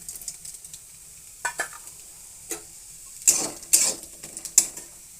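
Onions dropped into a hot pan with chillies and dried fish, bursts of sizzling and stirring scrapes that come in several loud clusters against a quiet background.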